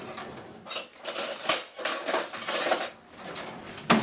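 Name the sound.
spoon stirring oats into no-bake cookie mixture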